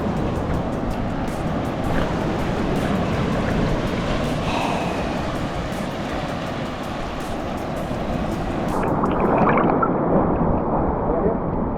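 Ocean waves off Fuerteventura wash and churn in a continuous loud roar close by, swelling slightly toward the end, with no voices over the surf.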